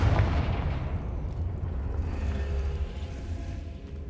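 A Confringo blast spell in the Hogwarts Legacy video game erupts as a loud, rumbling explosive boom that rolls on as a sustained, heavy roar for about four seconds.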